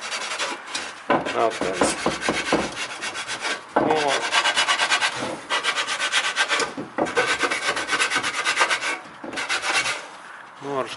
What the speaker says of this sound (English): in here I scratch this carefully